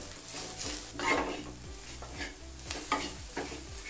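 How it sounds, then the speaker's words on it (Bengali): Ground dried chili, turmeric, cumin and chopped green chili fry in oil in a pan with a soft, steady sizzle. A few quiet stirring scrapes pulse through it and the frying stays close and gentle. "মশলাটা একটু ভেজে নেব।"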